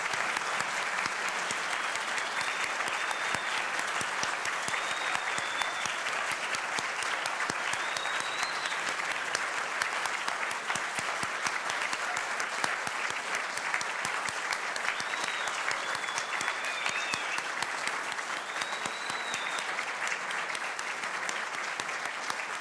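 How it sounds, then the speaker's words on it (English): A university awards ceremony audience applauds the commendation winners, a long, steady wash of clapping from a large crowd, sustained and even, with faint whoops rising now and then. "we all clap"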